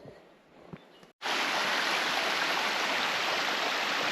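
A waterfall stream on the Labyrinth track in Tasmania roars in a loud, steady rush of water after a quiet moment with a few soft footsteps and a brief gap.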